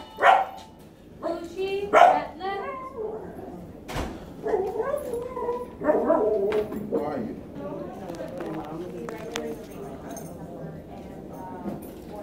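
A small dog barks a few sharp times close by, then whimpers and whines as people talk over it in a home setting.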